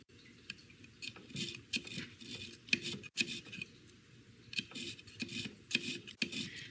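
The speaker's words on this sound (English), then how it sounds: "I usually take one section and sharpen it 3 or 4 times all around this disc." A rotary cutter blade disc is sharpened section by section, producing quiet, repeated rasping and scraping strokes in an uneven rhythm, close and soft with no talking.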